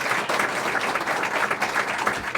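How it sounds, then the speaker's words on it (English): Audience applauding a conference panel on artificial intelligence in health and human services, a steady wash of many hands clapping at moderate loudness without a break. "let's give all of our panelists a big round of applause"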